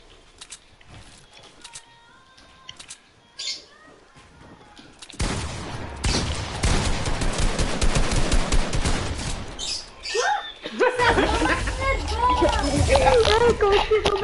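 Rapid bursts of video game gunfire erupt loudly after a quieter opening, rattling in sustained volleys with young voices chattering over and between the shots.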